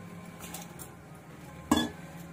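Soaked rice poured into a pot for making payasam, a sharp clinking clatter of grains and metal near the end after quiet kitchen ambience, with no talking.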